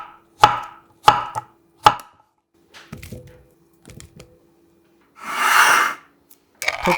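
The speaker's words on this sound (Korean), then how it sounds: "반을 갈라 씨를 빼내고 한 번 더 잘라서 껍질을 벗긴 후 1cm 두께 정도로 잘라 담아주세요" Knife cutting a peeled, seeded cucumber into 1 cm thick pieces on a board: three sharp, evenly spaced chops, then softer taps and a brief rustle, close and alone.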